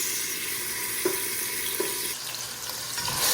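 Canned mackerel with onions and tomatoes frying in a pan, a steady close sizzle with a few soft clinks of a utensil stirring.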